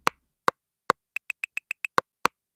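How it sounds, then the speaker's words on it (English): An Arturia DrumBrute Creation Edition drum machine plays a pattern of dry, sharp rimshots and claves: widely spaced clicks followed by a quick run of six tighter hits, then two more spaced strikes, isolated and crisp. "this is our pattern with our rims and claves"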